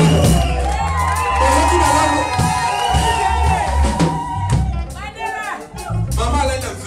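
A wedding congregation cheers and shouts in acclaim, loud and close, with whoops and raised voices swelling over a tonal backing and a speaking voice.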